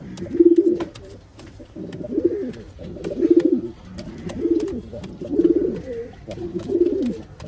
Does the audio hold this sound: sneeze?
no